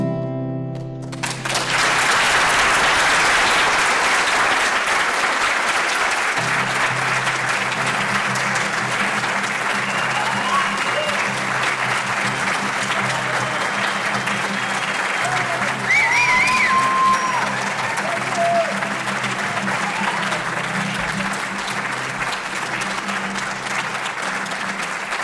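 Sustained applause for the actors from a theater audience swells quickly and stays loud and full for over twenty seconds, with faint whoops rising briefly near the middle before the clapping eases slightly.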